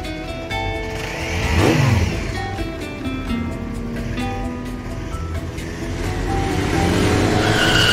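A car is driven recklessly, its tires squealing in a loud skid with revving engine, then a long rising screech as it slides again, close and continuous with no talk.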